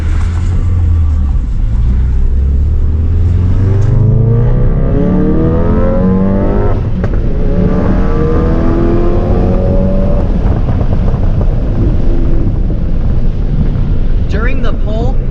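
A Ford Focus RS with an upgraded intercooler and charge piping accelerates hard through the gears, its engine note climbing repeatedly under loud, constant wind and cabin noise.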